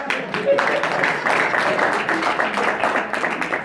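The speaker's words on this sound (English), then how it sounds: "Let me clap for myself." Scattered applause and clapping at an All-City event, steady broadband patter lasting several seconds with a crowd murmur and a faint voice underneath, moderately loud.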